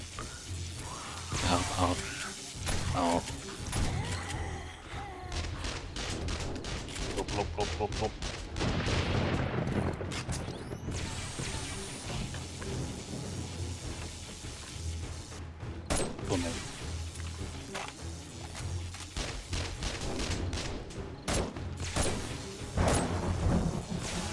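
Sustained bursts of gunfire and booms from the zombie survival game 7 Days to Die rattle on and off across a long stretch, busy and loud throughout.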